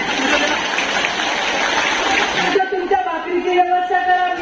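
Crowd applause at a political speech fills the first half, dense and steady, then fades into a sustained musical tone with chatter behind it.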